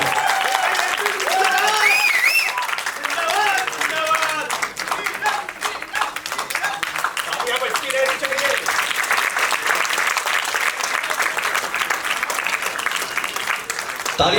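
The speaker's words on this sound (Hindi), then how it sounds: "जोरदार तालियों से।" A stage audience applauds loudly as a guest is welcomed, with thick sustained clapping across the whole stretch while a voice and music-like tones sound faintly underneath.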